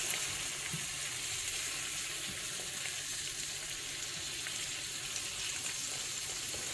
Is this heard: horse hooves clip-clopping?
no